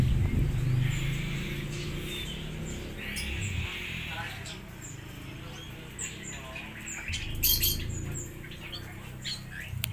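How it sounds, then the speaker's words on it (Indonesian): A busy, crowded bird market in Sumenep full of squawks and chirps from many birds, with people talking steadily underneath throughout. "Di sini banyak sekali macam-macam burung."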